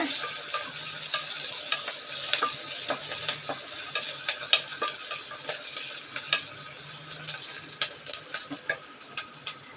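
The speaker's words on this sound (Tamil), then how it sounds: "இப்போ இதெல்லாம் ஃப்ரை ஆகட்டங்க கொஞ்சம் வெங்காயம் வதங்கிட்டங்க" Chopped onions frying and softening in a pan of oil or ghee for ghee rice, a steady close sizzle with scattered stirring clicks and scrapes throughout, no talking.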